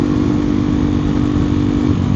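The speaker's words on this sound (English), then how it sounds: "for a single cylinder engine with an exhaust and no decat, it sounds fantastic" A KTM Duke 390 single-cylinder motorcycle with no decat roars steadily and loudly up close while riding, its exhaust a continuous throbbing drone with no talk over it.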